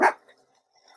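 A pet dog indoors gives a single short, sharp bark right at the start, close and fairly loud, then faint room sound follows.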